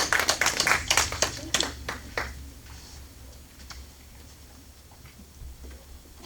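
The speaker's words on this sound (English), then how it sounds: "let's applaud for wonderful Reverend Marianne Kelley, who is speaking on freedom and divine connection" Audience applause for a Reverend speaking on freedom and divine connection, a burst of clapping from a modest indoor crowd that peaks early and thins out into scattered claps over room hum.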